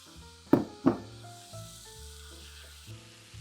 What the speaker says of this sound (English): we'll add in our ground beef and begin to break it up with a spatula and let it brown.